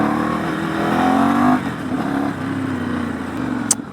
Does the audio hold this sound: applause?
no